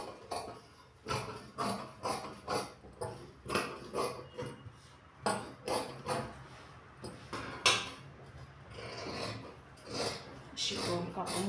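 Scissors cutting fabric into a round shape for sewing, a steady series of rhythmic snipping and rasping strokes close by, with someone talking intermittently over them.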